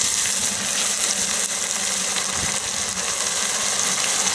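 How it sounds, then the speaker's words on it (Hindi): Water is poured into a pan of golden-brown fried onions and spices for a black chickpea and chicken curry, giving a steady, loud, dense hiss that holds for several seconds with no talk. "थोड़ा सा पानी डाल लेंगे"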